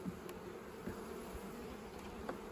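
Honey bees hum in a steady, low drone while a colony is moved from a horizontal hive into a PPS hive, a continuous mass buzz with faint scattered clicks, moderately quiet and without voices.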